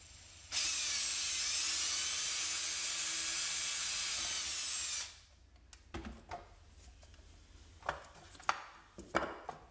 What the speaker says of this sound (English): I'll be placing the piece of wood underneath the plastic so I don't crack the plastic when I'm drilling through.